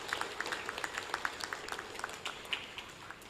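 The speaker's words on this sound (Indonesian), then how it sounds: "Tepuk tangan untuk kita semua dong." Faint, sparse clapping from a graduation audience at a college wisuda ceremony, scattered individual claps in an uneven rhythm, distant and quiet.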